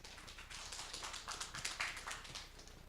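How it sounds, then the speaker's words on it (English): Light, sparse applause from a small conference audience for a speaker, a scattering of separate hand claps, faint and somewhat distant, with no talking. "A warm round of applause."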